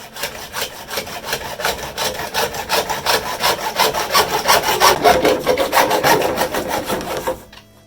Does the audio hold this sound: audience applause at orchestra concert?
no